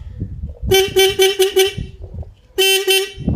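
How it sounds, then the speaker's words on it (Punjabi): A Royal Enfield Bullet motorcycle's newly fitted horn is tested with a quick run of five loud, close toots, then a brief pause and one longer blast. "ਹਾਰਨ ਆਪਣਾ ਹੋ ਗਿਆ ਸੈੱਟ ਪੂਰਾ"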